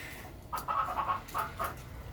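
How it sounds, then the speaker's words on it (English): Animated robot chickens give a few short clucks in two quick bursts. The sound is faint and close against a quiet background, with no talking. "And you got animated chickens."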